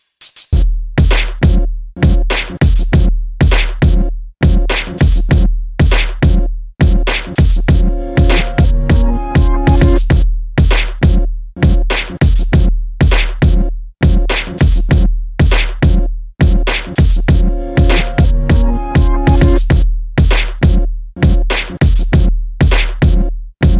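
A Sawzall reciprocating saw cuts through an intake manifold on a J30 Accord engine, making loud, close, rapid buzzing strokes in repeated bursts with brief pauses between them.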